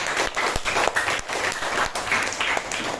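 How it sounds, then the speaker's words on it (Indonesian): Group of students in a classroom claps steadily for a classmate, a lively run of overlapping hand claps at moderate loudness with no talk. "tepuk tangan dulu untuk Asifa"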